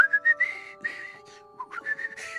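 A person whistles a short, chirpy tune imitating a bird's song, a few bright near phrases separated by brief pauses, with no talk.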